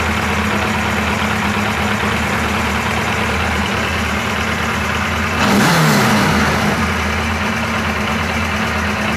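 A Police 1000 motorcycle engine idles steadily and loudly up close, with a short rise in revs near the middle before it settles back to a smooth idle.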